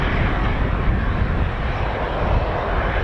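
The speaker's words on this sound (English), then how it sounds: "So we've got the C-146 powering up there" A C-146 Wolfhound military turboprop aircraft powers up with a loud, dense, steady engine roar that fills the whole stretch without pause.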